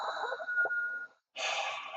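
A person imitating Darth Vader's breathing into a paper bag, with a long raspy hiss, a brief pause, then a second hissing breath, heard close and alone.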